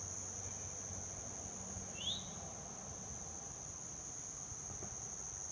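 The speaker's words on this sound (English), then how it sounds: "And now the cicada." A cicada's steady, high drone holds throughout at low volume, with a single brief chirp partway through.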